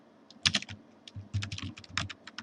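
Typing on a computer keyboard, close and fairly quiet, a quick irregular run of key clicks with one brief pause.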